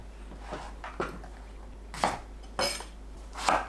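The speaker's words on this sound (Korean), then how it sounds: "가지는 양끝을 자릅니다." A knife trims the ends off an eggplant on a cutting board in a home kitchen, giving four or five sharp, separate knocks and chops against a quiet background.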